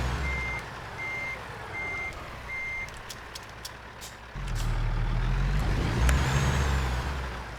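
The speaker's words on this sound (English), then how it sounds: "back up the trailer. We're gonna have to back up to the van" A truck in American Truck Simulator backs up, its reversing alarm beeping four times at an even pace over a low engine drone, followed by a rising engine rumble and a hiss of air brakes.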